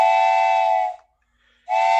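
A train whistle sound effect from a radio drama: two loud, steady steam-whistle blasts, the first lasting about a second, then a short silence and a second blast beginning.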